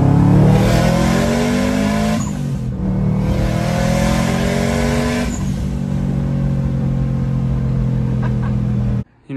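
A car that has just had a wheel alignment and a lip kit refresh accelerates hard, its loud engine revs climbing in pitch through two gear changes before a brief quiet drop at the end.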